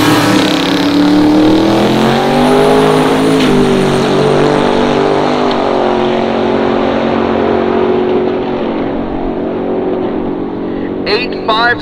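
A 1956 Chevy drag car with a 632 big block on pump gas idles loud and close at a drag strip, its lumpy engine note rising and falling in pitch as it revs, with a voice talking over it and a sharp clatter near the end.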